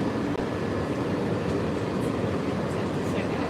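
Disney monorail train at Bay Lake, heard as a steady, dense rumble and rolling rail noise close by, with crowd murmur and voices mixed in.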